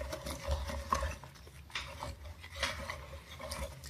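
Apple scraps for vinegar are stirred in a container, giving soft, quiet swishing and rubbing strokes with faint knocks, close and unhurried, with no voices.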